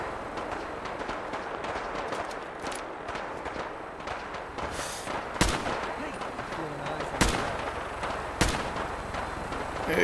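Gunfire rattles through a firefight in Fallout 4, with steady shooting and a few louder, sharper blasts standing out over dense, continuous noise.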